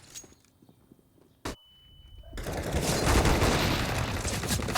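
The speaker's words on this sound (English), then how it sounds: "Quick fire for Gratisfaction, but no one on the other end." CS:GO gunfire during a professional match on the Inferno map: a single sharp shot cracks early, then a rising wash of louder in-game combat noise and bursts fills the rest.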